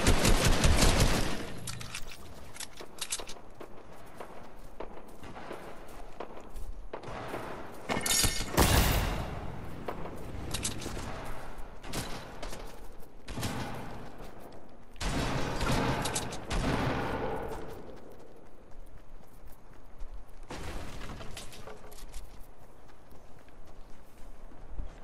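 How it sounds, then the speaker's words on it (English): Fortnite gunfire, bursts of rapid shots and sharp cracks recurring through the stretch amid game noise, loud and close with intermittent pauses. "I'm being shot at."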